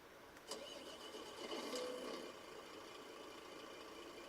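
A Scania truck engine in the video game Euro Truck Simulator 2 cranks and turns over, rising briefly then settling into a steady, low idle rumble; close and moderately loud, no voices.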